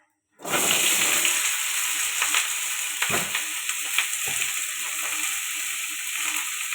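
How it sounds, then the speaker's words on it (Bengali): Cut potatoes frying in hot oil in a pan for a Bengali ghugni, a loud steady sizzle that starts abruptly and keeps hissing, with a few soft clinks and scrapes of stirring. "এদিকে গ্যাসটা জ্বালিয়ে আলুটা ভেজে নেব"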